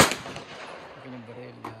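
A single sharp rifle report cracks at an outdoor firing range, loud and close at the start and then trailing off into a fading echo, followed by a faint second distant bang near the end.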